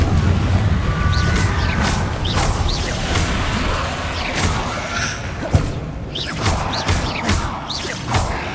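A Confringo fire spell blasts in the Hogwarts Legacy video game amid dense combat noise, with whooshes, thuds and crashing impacts over a loud, continuous rumble.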